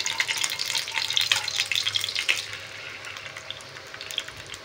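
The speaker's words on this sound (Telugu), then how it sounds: "నూనె తెలుస్తూ ఉందా, చిటిచిగా అంటా ఉంది చూడండి" Oil crackles and sizzles in a hot paniyaram pan while gunthaponganalu are being cooked, a close, busy hiss that's strongest at the start and then settles to a softer, steady fizz.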